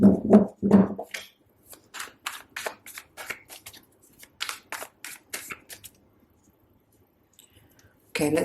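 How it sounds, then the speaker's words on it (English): A deck of tarot cards is shuffled with a run of crisp, papery riffling bursts in an uneven rhythm, close and fairly quiet, after a brief voice at the start, then a pause before a final burst. "I'm going to give it a couple more shuffles and then get started."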